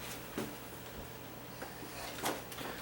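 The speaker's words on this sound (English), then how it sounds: "I like these quick release concealed hinge doors" A quick-release concealed-hinge cabinet door, on a bathroom vanity, unclips from its hinges with two short snaps, a few brief clicks set apart over quiet room tone.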